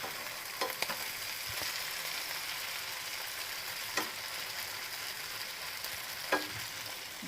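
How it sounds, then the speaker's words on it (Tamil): Marinated pomfret fish frying in a pan, a steady close sizzle with occasional soft pops and faint stirring clicks, no voices. "ஒரு 5 minutes நம்ம இது ஃப்ரை பண்ணோம்னா போதும், நல்லா குக் ஆகிடும்"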